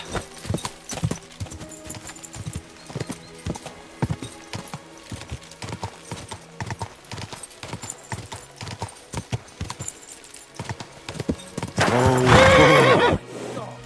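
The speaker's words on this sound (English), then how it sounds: "That looks like a bloody expensive horse." Horse hooves clip-clop in a steady, uneven rhythm close by, then a loud, drawn-out neigh rises near the end.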